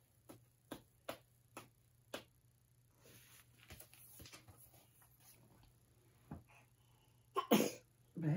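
A soft sneeze among a few faint sharp clicks and small taps, quiet and fairly close, with no voices.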